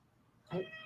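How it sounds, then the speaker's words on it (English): A pet cat gives a single short, faint meow at the end of a quiet indoor moment. "Why don't you meow?"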